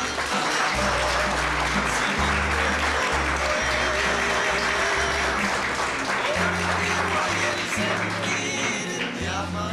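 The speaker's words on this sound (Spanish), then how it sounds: "un fuerte aplauso y mil agradecimientos" Church audience applauding loudly and continuously, dense clapping with crowd noise and some voices mixed in throughout.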